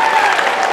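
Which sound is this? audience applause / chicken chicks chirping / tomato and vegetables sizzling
audience applause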